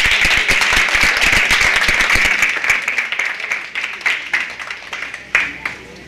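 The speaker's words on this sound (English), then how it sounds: "Can we give them a round of applause?" A round of applause at a women's leadership colloquium, crisp clapping from a sizeable audience that is loud at first and then thins out into scattered claps near the end.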